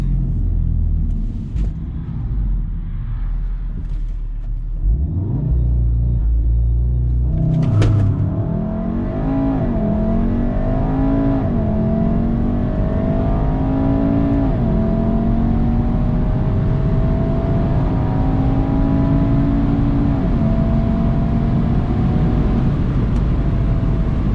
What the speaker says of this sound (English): We're gonna do it this time at a little bit lower launch RPM and see how it works.